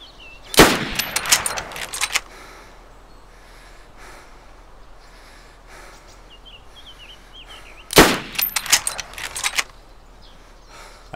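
Gunfire in the video game DayZ comes in two short bursts of sharp, rapid shots, the first near the start and the second several seconds later, separated by quiet background ambience.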